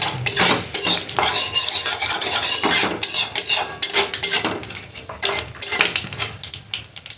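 Whole cumin seeds and a bay leaf are stirred in a hot pan with a metal spatula, producing busy, continuous scraping and rattling close up, with no voices.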